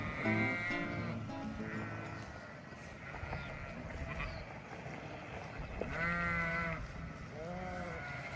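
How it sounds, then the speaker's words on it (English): Sheep bleat several times near a New Zealand roadside near Queenstown, a few wavering calls at the start and two more later, over a steady low rumble of engine or wind noise. "a roadside stop to watch the sheep graze"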